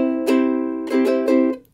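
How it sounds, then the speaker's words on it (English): Ukulele strummed in a down, down, up, down, up pattern, bright chord strokes ringing clearly alone and close, with the final chord fading out. "I'm going to show you the pattern down, down, up, down, up."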